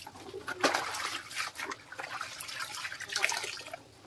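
Water runs and splashes from a tap while laundry is rinsed by hand, a close, uneven wash of liquid with a few sharper splashes and no talk.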